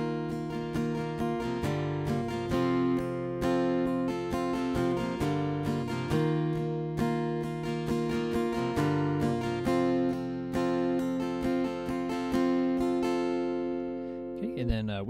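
Acoustic guitar strumming chords at a faster tempo in a worship-song style, with a steady down-up rhythm and ringing chord changes every couple of seconds, clear and close with no voice.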